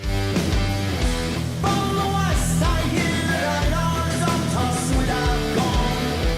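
Dense, loud heavy metal with distorted guitars, pounding drums and a wailing vocal line, played continuously without pause.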